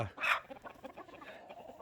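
Backyard hens clucking, a short, fairly faint burst of a sharp cluck followed by softer murmuring clucks close by.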